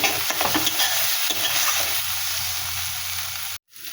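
Spice masala being stirred and fried in hot oil in a pan for a spicy tilapia fish curry, a continuous close sizzle with scraping stirs, cutting out abruptly near the end.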